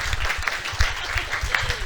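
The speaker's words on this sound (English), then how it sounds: "But first, an applause for the guests." Audience applause for guests after a film debate, a short burst of clapping from a modest crowd in a room, brisk and fairly close.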